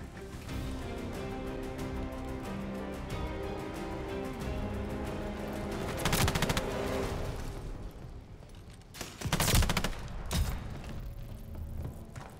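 Gunfire in a late-night online shooter game session, several dense loud bursts of shots standing out over a continuous rumbling battlefield bed, with a strong volley around the middle and another near the end.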